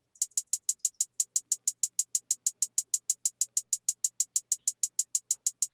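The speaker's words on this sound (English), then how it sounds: "And this is just a straight two-step hi-hat." A crisp hi-hat ticks a straight two-step pattern, steady, fast and even, around five or six strikes per second, bright and dry with nothing else playing.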